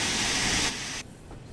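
An LMS Fowler Class 4F freight steam locomotive in Train Sim World 3 lets out a loud broad hiss of steam that steps down in level and then cuts off, leaving a quieter rumble.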